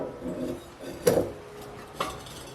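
Heavy-duty graniteware cookware pots and lids being handled, with soft scraping followed by two distinct metallic clanks a second apart, fairly close and alone.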